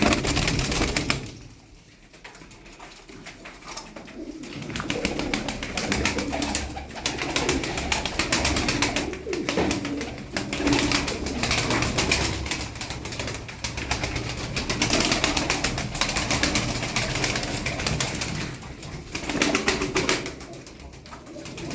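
Çakmaklı pigeons in a coop coo continuously, with a dense layer of overlapping calls, close and loud, and occasional wing flaps mixed in.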